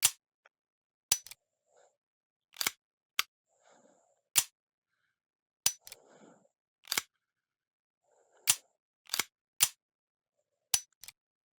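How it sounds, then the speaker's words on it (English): Sharp metallic clicks and clacks from a handgun being handled in H3VR, isolated and crisp with quiet pauses between, slide and safety snaps spaced irregularly over near silence. "I'm just going to manipulate the gun momentarily so you can hear all those new handling sounds."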